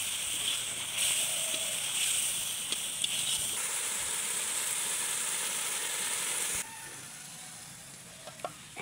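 Spiced sea rita fish sizzling and frying in a pan while being stirred, a steady close hiss with occasional scraping clinks, dropping slightly quieter near the end.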